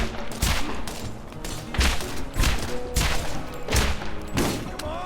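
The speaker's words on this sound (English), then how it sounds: "Blast 'em! Teach 'em a lesson! Somebody shoot this guy!" Rapid bursts of gunfire from the Borderlands video game around Fyrestone, loud repeated shots in clusters about every half second, with game characters' voices.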